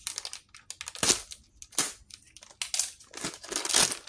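Packaging of a Jurassic World Hammond Collection toy set being cut open, heard as close, quiet crinkling and snipping of plastic and cardboard in irregular bursts, without talking.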